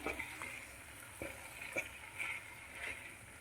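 Fried chicken pieces for dragon chicken tossed and stirred in a pan, a low sizzle under a few sharp scraping clicks spaced irregularly, close and fairly quiet.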